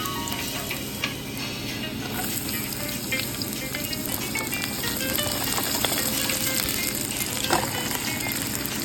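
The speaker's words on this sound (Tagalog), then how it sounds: "Igigisa lang natin ang ating chicken sa bawang at saka sibuyas." Chicken sautés with garlic and onion in a hot pan, a steady, close sizzle with scattered crackles and a few light utensil clicks.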